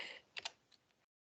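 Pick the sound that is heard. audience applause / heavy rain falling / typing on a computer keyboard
typing on a computer keyboard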